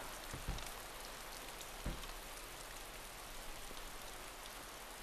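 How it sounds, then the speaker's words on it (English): Steady rain patters across surfaces in the DayZ video game, a soft, even wash of drops that continues throughout, with no voices over it. "There's also rain over there as well."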